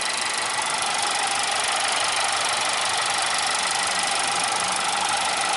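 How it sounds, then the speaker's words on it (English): A steady idling direct-injection engine of a 2022 Mitsubishi Outlander SE, heard in the open engine bay with no engine cover, a fast, even ticking running through its constant hiss, close and continuous. "I'm also not sure if this vehicle has direct injection, but it probably does because of that ticking sound."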